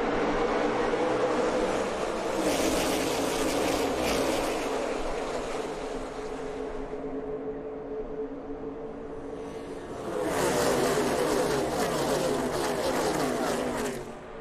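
NASCAR Xfinity Series stock cars roar past at Talladega, a broad sustained engine drone that swells loud, dips for a few seconds, then surges again as the pack passes.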